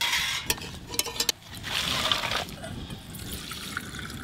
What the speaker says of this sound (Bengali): মাংসর তেলটা তো ঢালতে হবে